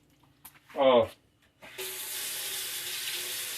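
Water pours from a tap into a pot of dry pasta, a steady loud gush that runs to the end. A short spoken word and a few clicks come just before it.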